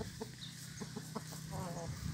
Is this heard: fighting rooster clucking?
yes